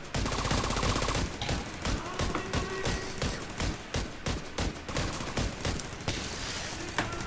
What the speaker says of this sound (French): je vais l'avoir au fusil